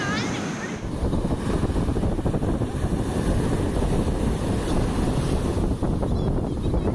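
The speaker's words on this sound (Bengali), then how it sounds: "হাওয়াও দারুণ" Wind roars steadily against the microphone on a boat in the Kerala backwaters, with the boat engine rumbling and water washing underneath.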